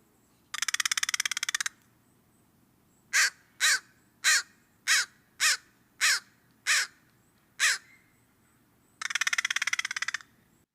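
Close, loud American crow caws: a harsh rattling burst, then a rhythmic series of about nine sharp caws, then another rattling burst, alone against quiet background.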